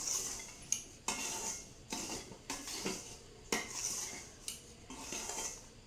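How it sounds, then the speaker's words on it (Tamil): Semolina is dry-roasted with coconut in a pan over a moderate flame for a banana rava sweet, heard as repeated scraping and clinking stirring strokes, close and fairly quiet, with a faint background hiss. "ரவையை அந்த தேங்காயிலே போட்டேங்க. போட்டு கொஞ்ச நேரம் வறுத்துக்கலாம்."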